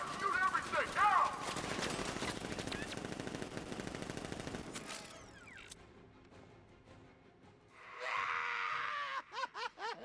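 Rapid militia gunfire in Batman: Arkham Knight rattles loud and dense through the first half, then fades into quieter game sounds before a few sharp bursts near the end, with voices and groans mixed in.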